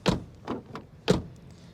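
Doors on a Ford Focus station wagon with automatic transmission shutting, two solid thuds about a second apart, close by and alone with no talk.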